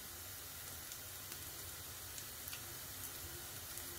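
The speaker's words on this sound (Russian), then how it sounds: "Пока вода закипает, на другой сковородке обжариваем лук." Onions fry in a pan with a faint, steady sizzle and occasional small crackles, heard alone and quietly.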